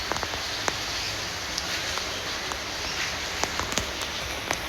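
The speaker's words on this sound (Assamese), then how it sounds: "আজি বতৰটো বহুত বেয়া একদম বৰষুণ পৰি আছে" Rain falls steadily outdoors on a gloomy morning, a soft constant hiss with scattered faint drips and light ticks on surfaces, fairly quiet and with no one talking.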